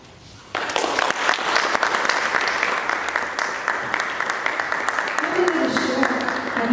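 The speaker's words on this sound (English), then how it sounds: "Another round of applause for beautiful ladies" Applause for performers at an International Women's Day poetry, music and debate event bursts in after a quiet moment and holds as a loud, dense crowd clapping, with voices rising beneath it toward the end.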